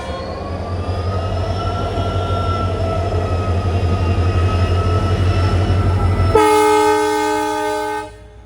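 A WDP4 diesel-hauled express train rumbles past at length, loud and close, then a sustained multi-tone horn blares near the end before the sound drops away.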